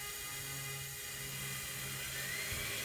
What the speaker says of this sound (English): Now if I throttle up the lift motors